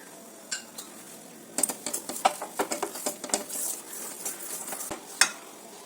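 A spoon or whisk beats Ashoka halwa mixture with a pinch of salt and milk powder in a bowl, giving close, rapid, irregular clinks and scrapes that start faintly and grow busier, with no talking.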